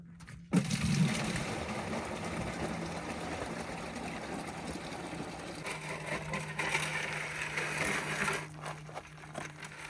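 Water poured from a bucket into an RV black tank while boondocking gives a steady rushing, gurgling splash for about eight seconds, over a low engine-like hum, then tapers off into scattered clatter.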